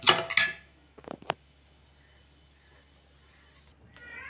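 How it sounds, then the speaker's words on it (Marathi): A spoon clinking against a bowl while dry bhel mixture is tossed after lemon juice is squeezed in: a few brief scraping clinks near the start, a couple more a second later, then quiet. "लिंबू पिळल्यानंतर पूर्ण मिश्रण मिक्स करायचं आहे"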